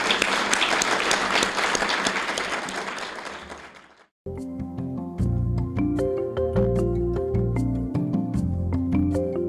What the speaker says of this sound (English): I think you deserve another round of applause for that.